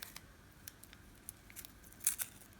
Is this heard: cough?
no